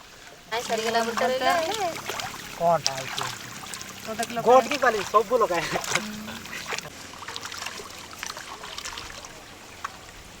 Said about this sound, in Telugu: కొంచెం నీట్గా కడగాలి కొంచెం నెమ్మదిగా కడగాలండి లేకపోతే విరిగిపోతుంది